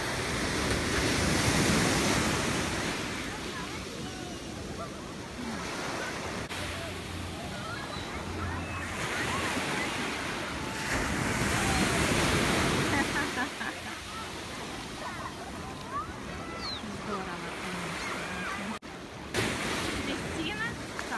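Atlantic Ocean surf rolls and breaks on the beach at Ocean City, a steady wash of broad noise swelling and easing in waves, with wind buffeting the microphone and a few faint voices underneath.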